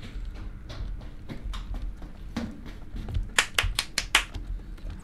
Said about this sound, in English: Who the fuck clapped?